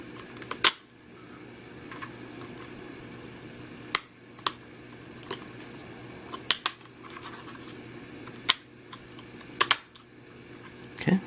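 A RAM module handled and pressed into the memory slot of an older laptop during an upgrade, a series of sharp plastic clicks and snaps scattered over a quiet fan hum, close up, with no talking.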